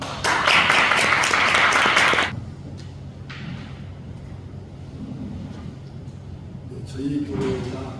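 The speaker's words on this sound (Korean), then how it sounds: "정우경 목사님 나오실 때 큰 박수로 맞아주시기를 바라겠습니다" Loud applause from a church audience welcomes a pastor of a rural church in Wando, South Korea: a dense burst of clapping for about two seconds that stops abruptly, followed by quiet room tone and faint speech.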